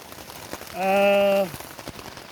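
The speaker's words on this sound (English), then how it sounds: "it's raining out now" Rain falls at a backcountry lake campsite with a steady, soft patter throughout, briefly interrupted by a short, loud tonal sound in the middle.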